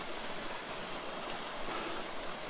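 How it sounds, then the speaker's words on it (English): Waterfalls along a hiking trail at Jones Hole in Dinosaur National Monument, Utah, give a steady, even rush of falling water that fills the clip at constant loudness with no other sounds. "we found some waterfalls"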